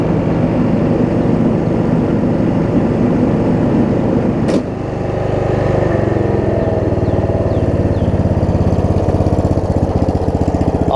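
A Snapper RER riding mower, fresh from a cylinder head repair, runs loud and steady close by, with a brief dip in its drone near the middle before settling back into a smooth, even idle.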